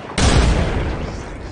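A grenade explodes in the video game Apex Legends with a sudden, loud, close boom that rolls on as a heavy rumbling tail.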